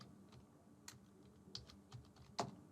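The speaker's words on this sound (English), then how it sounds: "in the additional thought section I am going to just type" Fingers tap on a computer keyboard in a soft irregular patter of quiet keystrokes, ending in a couple of louder presses, with no voices.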